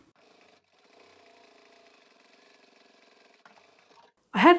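A sewing machine stitches a pouch of tapestry upholstery fabric, a steady mechanical whir with fine rhythmic ticking for several seconds, quiet and close, before it stops and a louder short burst of noise ends it.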